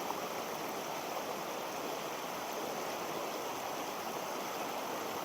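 A mountain stream rushes over rocks in a steady, dense wash of water close by, with no voices.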